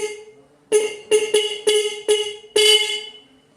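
A vehicle horn running on a freshly charged battery sounds six sharp honks in an irregular run, loud and close, with the last blast held longest. No voices are present.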